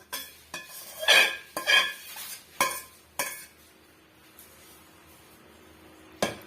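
Lemon rice being mixed with masala in a pan: sharp clinks and scrapes of a spoon against metal come in an uneven run of strokes, then fade to quiet before one last knock, close up with no speech.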